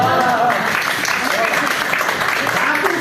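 Thin, scattered clapping from an audience at a poetry event at Arvind College, Delhi University, sits under a person speaking, with the applause dense but restrained throughout.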